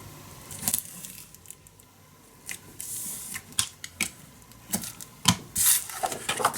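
A handheld paper punch cuts through patterned scrapbook paper while a mini album is assembled, giving a run of sharp, close clicks and snaps spaced irregularly over several seconds.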